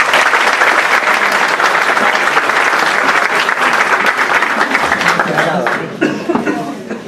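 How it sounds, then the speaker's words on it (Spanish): Loud, dense applause from an audience in a university main hall at a justice forum, honouring the institution's board, steady and continuous for several seconds before thinning near the end. "Quiero poner un aplauso muy grande a la mesa directiva de la institución."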